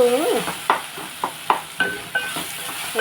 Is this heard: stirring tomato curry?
yes